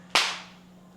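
A single sharp hand clap during a family blindfold guessing game at home cracks out loudly and up close, followed by a short fading room echo and then near quiet.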